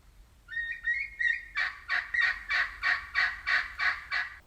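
A turkey gobbles close and loud: a rising warble opens, then a rapid string of about ten evenly spaced throaty pulses, alone with no talk.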